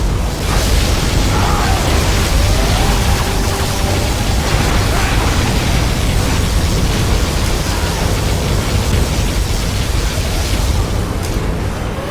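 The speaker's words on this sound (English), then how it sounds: "Particle cannon activated." A particle cannon blast in C&C Generals Zero Hour rumbles as a dense, loud, continuous roar that fills the whole stretch like a sustained storm of noise.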